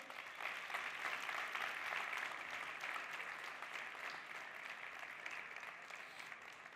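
An audience applauds finalists at an awards finale on stage, a dense, steady wave of clapping that swells quickly, holds for several seconds and then begins to thin, fairly distant and without talk over it.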